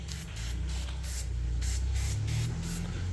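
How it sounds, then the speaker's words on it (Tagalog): A bottle of foaming glass cleaner sprayed repeatedly in close, quick hissing pumps, about nine bursts in a steady rhythm over a low background hum. "So ito yung foaming to. So i-spray natin dito guys."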